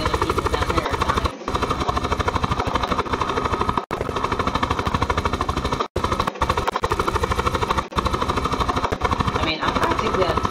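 A helicopter flies in the Call of Duty Black Ops 4 Blackout game, its rotor chopping in a loud rapid steady pulse, with a few brief dropouts and no talk.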